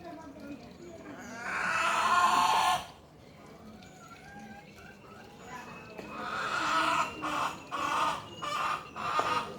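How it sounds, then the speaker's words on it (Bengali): A hen on a farmyard, laying eggs, clucks and calls in loud, rising bursts, first one long squawking call, then a run of rhythmic repeated cackles, with people talking now and then in the background. "ডিম দেওয়ার সময় মুরগি এইভাবে চিল্লাপাল্লা করে, ডাকাডাকি করে"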